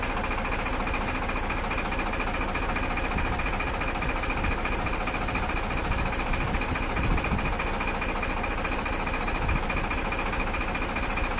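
A tractor engine runs steadily through a lift-sensing demonstration with a mounted implement, a constant mid-pitched idle with a faint knocking vibration, close and unbroken, with no talk.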